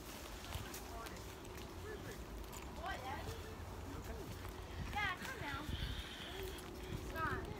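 Horses carry riders along a beach in Cozumel, Mexico, their hooves clopping steadily at a walk beneath chatter from the riders.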